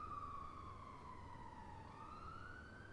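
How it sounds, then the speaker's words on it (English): An ambulance siren passes outside at a distance, its steady wailing tone sliding slowly down in pitch and then back up, faint beneath steady background hum. "That's an ambulance, actually."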